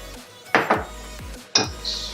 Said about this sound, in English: Take pan, add oil, bring it to heat.